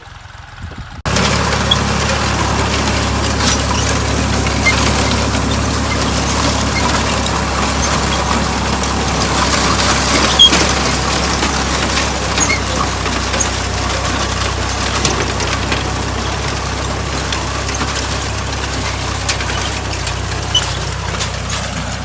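A new DTZ 5354HPX 35 hp tractor with a Polish anchor seeder runs with a loud, steady engine drone close by. The sound kicks in after a second of quiet and holds without talk.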